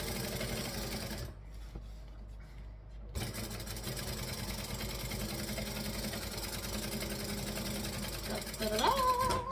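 A sewing machine top stitches a fabric panel with a steady close whir that briefly stops and then resumes, running continuously to the end.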